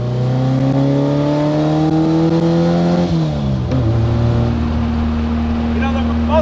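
A 1957 Porsche 356A Outlaw with a classic 4-speed gearbox drives and revs loudly, its engine note climbing through a gear, dropping on a shift and settling into a steady drone.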